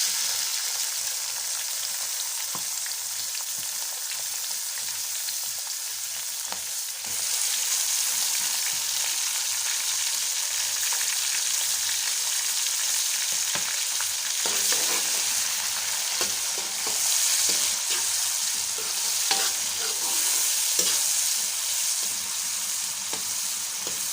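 Garlic, ginger, tomato and onion fry in ghee in a pot, a steady close sizzle that swells louder as the ingredients go in, with occasional stirring scrapes.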